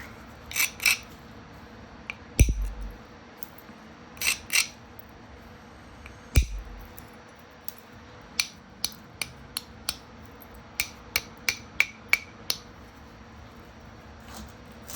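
Direct percussion knapping on flat stone, a hammerstone striking flakes off the edge in sharp, close clicks and taps, a few heavier knocks early, then a quicker run of light strikes.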